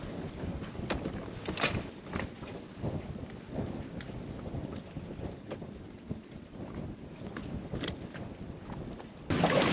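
Strong wind gusts outdoors on Beaver Island, Michigan, producing a constant low roaring rumble that swells and buffets against the microphone, with a harder gust at the end.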